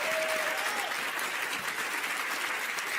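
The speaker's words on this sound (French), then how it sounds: "On l'applaudit très très très fort." A television game-show studio audience claps steadily for the full length, a dense, even wash of applause heard close and without pause.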